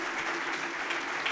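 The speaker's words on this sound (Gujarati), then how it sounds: "એ પરિવારને આપણે જોરદાર તાળીથી વધાવીએ" A crowd applauds a family at a community social-awareness program in Surat, a dense, steady wash of clapping hands that fills the whole short stretch without pause.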